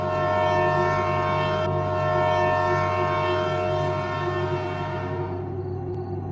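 A loud, sustained train horn blares for several seconds, a rich steady chord that fades away toward the end.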